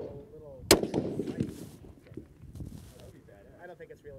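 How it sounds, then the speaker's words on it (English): A Ruger Precision Rifle in 6.5 firing 140 grain A-Max rounds on a long-range course lets off a single sharp, loud shot that echoes and decays over a few seconds, with faint movement noise around it. "We're shooting 140 grain A-maxes here."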